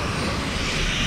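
A radio-controlled model airplane engine drones steadily at a small Central Florida model airfield, a continuous, fairly loud buzzing roar with no voices.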